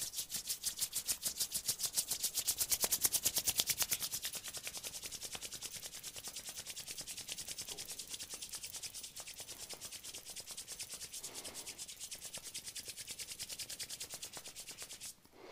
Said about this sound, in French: on joint les mains, on les frotte ensemble de plus en plus vite